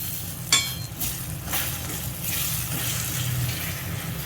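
Tomato paste egg curry being stirred in a pan, a close steady sizzle with scraping spoon strokes against the metal, a sharper clink near the start, no voices.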